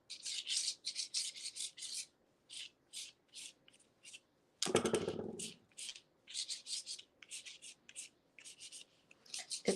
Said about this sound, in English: Let's do some more scraping